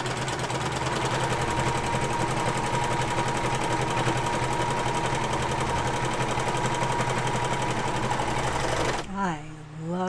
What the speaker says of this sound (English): I love my serger.